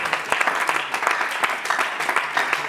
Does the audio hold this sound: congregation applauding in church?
yes